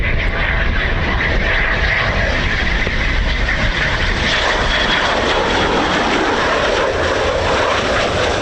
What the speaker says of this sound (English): This is our last Typhoon of Wave 1